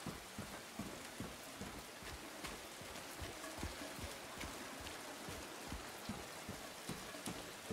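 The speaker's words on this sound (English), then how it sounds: "Rain, rain, go away." Rain falls in the video game Silent Hill 2, a steady soft hiss scattered with sharp drop ticks, faint and continuous with no voices over it.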